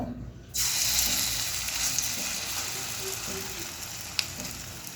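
Pumpkin leaf fritters dropped into hot oil in a wok set up a sudden loud, steady sizzle close by, with a single sharp clink partway through and no voices.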